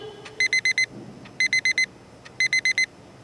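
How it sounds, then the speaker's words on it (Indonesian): Alarm clock ringing in three bursts of four rapid electronic beeps, each group separated by a short pause, loud and close over faint background noise. "Ya, ini suara alarm."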